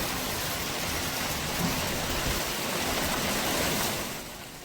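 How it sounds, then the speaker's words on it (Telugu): Unseasonal hailstorm rain pours down over maize and paddy fields at harvest time, a dense, steady roar of downpour with no voices, easing slightly at the end. "వడగళ్ల వాన పిడుగులతో కూడిన వర్షం పడడంతో"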